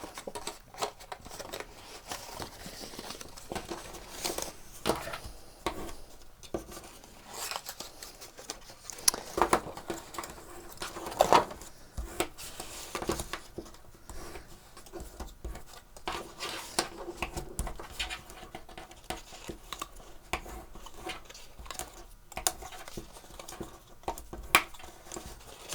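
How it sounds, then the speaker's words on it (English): Paper panels are creased and folded along square marks while making a cup holder, giving faint, close, irregular crinkles, taps and rubbing scrapes spread through the clip. "So I'm just going to fold all of those square marks."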